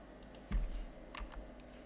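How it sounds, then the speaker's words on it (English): A few soft computer keyboard key presses, quiet and close, scattered across a short stretch of near silence. "Now type the name"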